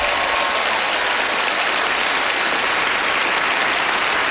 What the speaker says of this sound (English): A warm round of applause will follow you up here.